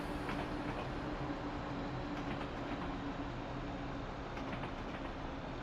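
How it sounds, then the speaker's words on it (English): Train cars rolling steadily on the Goblin line with constant rail rumble and faint clickety-clack during a full brake application from 45, a continuous loud wash of wheel and track noise with no clear squeal. "I want to see from 45 what a full brake does"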